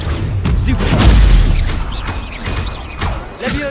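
Hogwarts Legacy duel spells go off in quick succession, close and loud: a heavy booming impact, then whooshing casts and sharp bursts, with a brief lull before a final hit.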